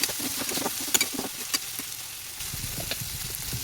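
Vegetables and peas sautéing in a pan with a steady crackling sizzle, broken by a few sharp clicks and scrapes of stirring early on, then settling into a softer, even fry.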